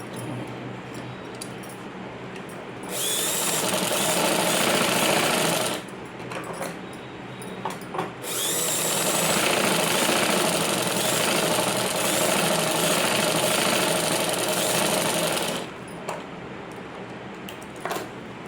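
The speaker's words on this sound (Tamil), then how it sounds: "அப்படியே திருப்பி மேலே ஒரு தையல் போட்டுக்கோங்க." A sewing machine stitches fabric for gathered pants, its steady loud whirring running in two long bursts with short quieter pauses between, with no talking.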